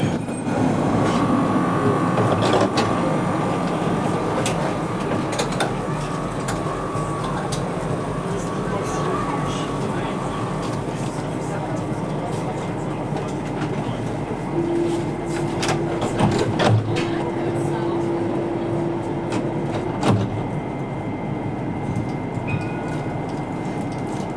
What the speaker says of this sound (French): il y a une autre rame qui arrive de l'autre côté